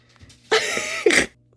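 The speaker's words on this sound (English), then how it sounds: "I gotta sneeze" One short, forceful sneeze or throat burst, followed by a second sharper burst, close to the microphone in a quiet room.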